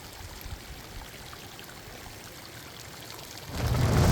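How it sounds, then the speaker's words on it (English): Hot spring water flows out of a mountainside and splashes continuously nearby in a soft steady rush, swelling louder toward the end. "we find these hot springs, and this water's coming right out of the mountain"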